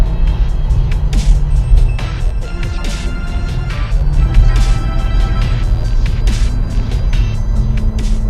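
A Ferrari 458 engine revs hard toward its 9,000 RPM limit, a loud, sustained roar with repeated sharp surges as it climbs through the gears.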